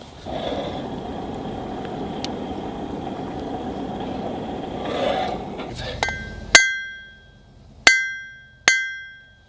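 Hot steel hammered on an anvil while forging a shoulder on a leaf with a charcoal fire: a roaring blower hiss first, then three loud, ringing metallic strikes spaced about a second apart, each decaying slowly.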